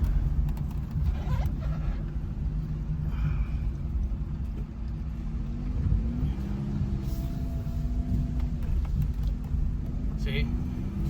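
A 2011 Chevrolet Aveo with a bad transmission hums along the road from inside the cabin, a steady low engine and road rumble with a rising tone as it speeds up, while a person talks over it.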